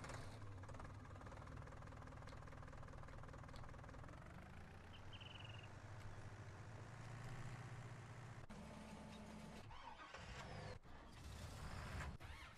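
Heavy truck in the video game Farming Simulator 19 idling and reversing, a steady low diesel rumble with a brief hiss of air brakes and shifting engine tones near the end.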